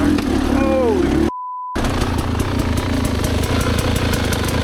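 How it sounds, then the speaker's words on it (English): Rieju Ranger motorcycle ridden along the rocky Tin Cup Springs single-track trail, its engine a steady low chug under wind and rattling, briefly cut out mid-clip, with a short rising whistle-like tone at the start. "I'm starting to get used to riding on my other bike, feathering the clutch more."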